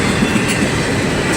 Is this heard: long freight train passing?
yes